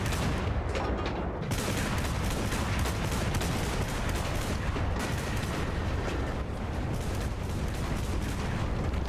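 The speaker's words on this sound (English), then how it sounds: "Let's get back on the AA gun. Let's start shooting these down." Continuous anti-aircraft gunfire in the World War II shooter Enlisted, a dense, unbroken barrage of rapid cannon reports with a steady loud level and no talk.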